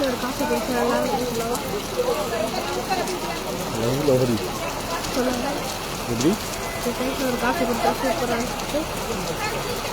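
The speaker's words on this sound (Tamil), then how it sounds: "மழை தான் பெய்யுதே" Evening summer rain falls steadily in Kodaikanal, a constant hiss and patter of drops. People talk over it throughout.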